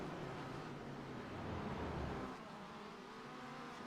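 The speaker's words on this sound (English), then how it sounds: "Listening to these little 4-bangers just pick up the speed and downshift and turning left and right." Small four-cylinder race kart engines in iRacing drone steadily, rising as they pick up speed and dipping on a downshift, a dense close engine wash with no talk.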